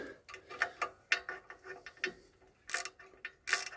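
A hand ratchet tightens the remaining screws on a car's clutch pressure plate, giving short bursts of quick clicking with brief pauses and two sharper metallic snaps near the end, close and fairly quiet.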